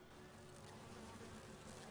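Bees buzz in the Resident Evil Remake video game, a dense, steady insect drone filling the full two seconds at a low, even level with no talk.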